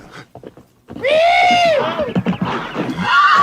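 A horse whinnies loudly and close in a western movie scene, a long rising-and-falling neigh lasting about a second, followed by shorter snorts and rustling movement.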